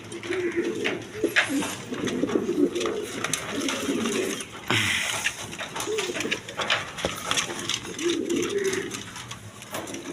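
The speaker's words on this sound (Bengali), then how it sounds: "দেখেন একদম সুস্থ সবল কবুতর" Soft pigeon coos repeat through the scene, low and murmuring, from pigeons kept for sale, with someone talking over them.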